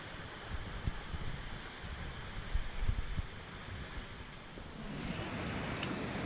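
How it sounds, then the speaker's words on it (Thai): Steady broadband rush of Phu Soi Dao waterfall in Phu Soi Dao National Park, Thailand, a constant roaring wash with slight swells in loudness and no voices. "ด้านหน้าคือ น้ำตกภูสอยดาวครับ"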